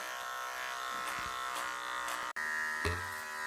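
An electric hair clipper buzzes steadily during a basic men's clipper-over-comb haircut, a close, continuous hum with a brief cutoff and slight changes in pitch as it moves through the hair.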